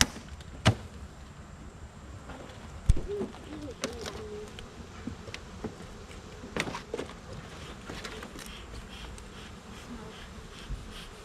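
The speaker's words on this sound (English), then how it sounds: "Bees." Honey bees buzz steadily around a hive being harvested for honey, a continuous close drone with occasional knocks and clicks, birds cooing faintly in the background.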